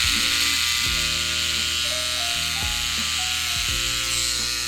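Electric hair clippers taper a man's sideburn during a barber's head shave and beard trim, a loud constant buzzing hum up close with small pitch dips as the blade meets hair.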